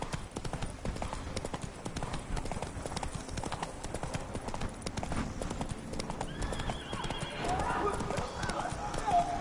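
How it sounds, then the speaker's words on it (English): Horse hooves clip-clop in a steady trot in The Witcher 3, close and continuous, and a neigh rises near the end; a voice speaks briefly over the hoofbeats. "Whoa there, Roach"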